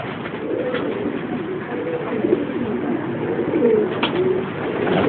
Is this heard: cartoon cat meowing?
no